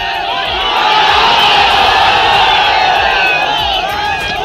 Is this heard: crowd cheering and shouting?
yes